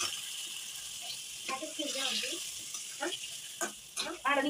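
Chicken sizzles in a hot pan for a masala fry, a steady bright hiss running throughout with occasional stirring clatter and bursts of louder spattering near the end.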